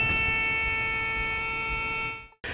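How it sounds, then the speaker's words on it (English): Warning buzzer for the auto-retracting step on an Auto-Sleepers AIR Ford-based campervan, a continuous steady electronic tone with several harmonics, sounding nearby for over two seconds before cutting off abruptly. "It's just got an annoying buzzer."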